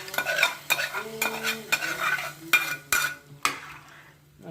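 A spoon or ladle scrapes and knocks around a metal pot of pongal in a run of sharp, irregular stirring clatters, loud and close, fading to quiet at the end.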